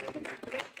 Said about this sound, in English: Well, I'm clapping.